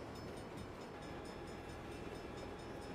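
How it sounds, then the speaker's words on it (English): Train passing in the video game Saints Row, a continuous rumbling roar of rolling railcars with faint rhythmic clatter, steady and fairly loud with no voices. "Bad time for a train."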